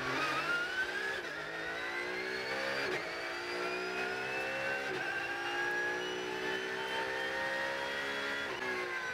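A race car heard at the green-flag start of a race, its engine screaming and climbing steadily through the gears with brief dips at each shift, loud and continuous with no talk.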